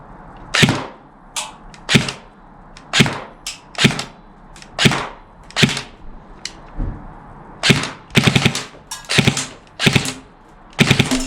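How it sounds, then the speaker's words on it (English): Airsoft gun fitted with a tracer unit firing test shots in a garden, a series of sharp, loud cracks, some single and some in quick bursts, with short pauses between them. "I'll do a few test shots of this in the garden just so you can see the tracer unit, hear the sound"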